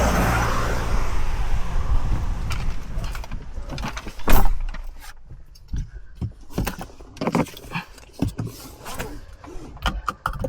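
A Toyota Premio with a CVT transmission is heard from inside while driving: a steady engine and road hum runs throughout, with sharp mechanical clicks and thumps from the cabin scattered over it, and no talk.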